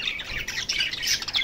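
A rainbow-colored pet parakeet chirps and tweets in quick, bright bursts. The calls come continuously and fairly close, with no talking.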